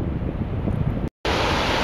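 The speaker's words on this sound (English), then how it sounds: "Big waterfall number 1" Broad, steady roar of a big waterfall on the way to Kinsarvik in Norway's Hardangervidda, heard from a distance as constant rushing noise with wind buffeting the microphone and a brief cut in the middle.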